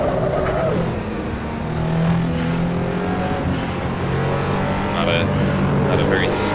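Engine of a 1987 RUF CTR Yellowbird in the Assetto Corsa racing game, a steady droning rev with rising and falling pitch sweeps as it accelerates and shifts, loud and continuous while someone talks over it.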